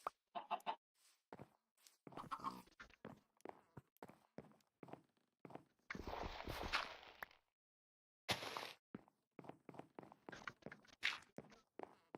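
Minecraft chickens give short, scattered clucks, mixed with footstep-like bursts and other game noises, with pauses of quiet between the sounds.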